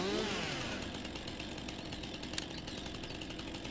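Chainsaw in the Farming Simulator 19 video game, a steady buzzing motor drone that holds constant and fairly loud throughout, with a brief sharp click near the end and no voices.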